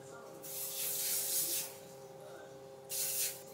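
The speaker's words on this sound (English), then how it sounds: "It's basically a texture and hold spray." Texture and hold hair spray hisses from a can in two close bursts, a longer spray followed by a short one after a pause, quiet and without talk.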